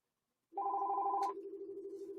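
A telephone rings once, a clear electronic tone with a bright chime at its start, then a steady lower hum continuing alone with no voices.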